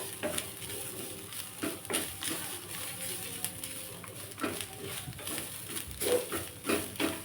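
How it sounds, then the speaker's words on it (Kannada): Fresh and dry coconut with cardamom roasting on a low flame for poppy seed payasa, a faint quiet sizzle beneath irregular close scraping and stirring taps in the pan. "ಇದನ್ನು ಸ್ವಲ್ಪ ಈ ಥರ ಫ್ರೈ ಮಾಡ್ಕೋಬೇಕು ಚೆನ್ನಾಗಿ"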